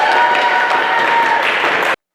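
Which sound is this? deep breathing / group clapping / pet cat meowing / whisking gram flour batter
group clapping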